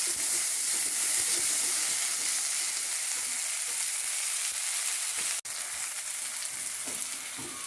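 Chopped tomatoes go into chicken roast in a hot pan, giving a steady, loud hiss of frying with faint stirring and one sharp click near the end.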